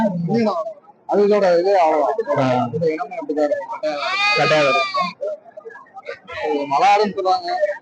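Mountain goat at a Tuesday goat market at Pambu Kovil, bleating loudly several times amid a crowd of people talking nearby.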